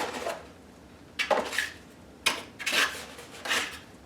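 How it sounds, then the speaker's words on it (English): Trimming the bottom openings of a round model Corsair fuselage on a bevel, heard as a few short scraping, rasping strokes separated by pauses, close and fairly quiet. "I'm going to trim both these bottom openings on a bevel"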